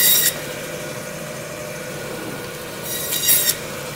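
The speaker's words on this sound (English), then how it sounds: "Let's get our bone scraper, remove some of that bone dust off of there, get them prettied up." Bone scraper rasping bone dust off thick-cut bison and elk porterhouse steaks, two short, close, gritty scrapes at the start and end with a low room hum between.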